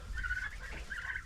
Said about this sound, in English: This is the first day I've seen turkeys puffing themselves up like that.